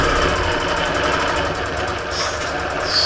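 A longarm quilting machine stitches binding down the side of a quilt on the frame, giving a steady, loud, close mechanical hum with a fast rattling stitch rhythm that runs continuously.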